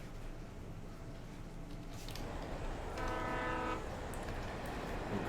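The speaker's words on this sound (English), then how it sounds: "Oh gosh, a train." Train in the video game Alan Wake passing by: a low rumbling roll of wheels with a sustained horn blast in the middle, fairly faint and heard without talk.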